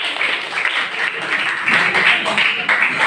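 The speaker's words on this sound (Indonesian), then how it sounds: "Ya, tepuk tangan buat kita semua." A classroom group clapping together, a dense, steady patter of many hands at close range lasting a few seconds, with no voices over it.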